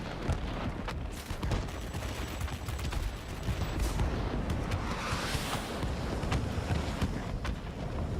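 Aircraft guns in World of Warplanes rattle in dense, continuous bursts over a steady roar of wind and engine noise, with a German Messerschmitt Me P.1092 fighter in combat.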